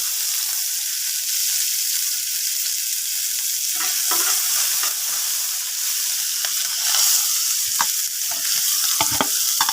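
Chopped onion with curry leaves, coriander, green chillies and ginger frying in a pan for paruppu adai dosa, a steady close sizzle with occasional stirring scrapes and clicks, no talking.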